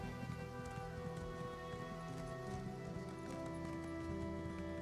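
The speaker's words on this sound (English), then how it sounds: "So lazy we had to ride our horse that far." Horse hoofbeats from riding a mount in the Elder Scrolls Online video game, a steady clip-clop running continuously through the clip over a dense layer of game ambience and music.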